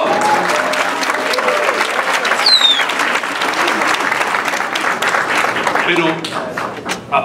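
An audience claps and cheers in a loud, dense burst that carries on steadily, with a voice talking over the applause near the end.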